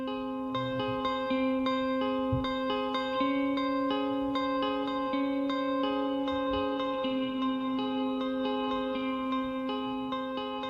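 A clean electric guitar plays gentle repeating notes drenched in reverb, each tone ringing out and blurring into a spacious, dreamy wash.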